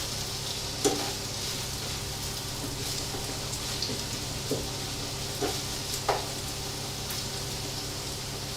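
Onion fries with bacon in oil in a pan, a steady soft sizzle with a few light clinks of stirring.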